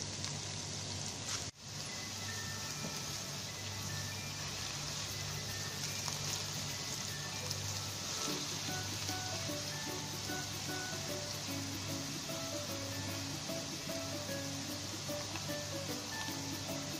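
A Spanish potato omelette fries in a pan over a low-medium flame, giving a steady, close sizzle with a soft rain-like crackle that lasts throughout while background music plays.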